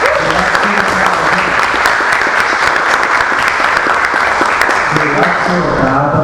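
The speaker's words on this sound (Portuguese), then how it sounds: "você pode dar um aplauso pela verdade" Loud, sustained applause fills a hall during a prayer and worship gathering at the São Paulo state legislative assembly, with a voice talking over the clapping at the start and end.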